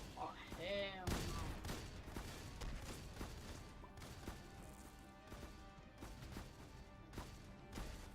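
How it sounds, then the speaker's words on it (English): Gunfire in Roblox Dead Rails, with sharp repeated shots and crashing hits across a dense, noisy scene, while players talk and shout over the shooting. "who is he shooting?"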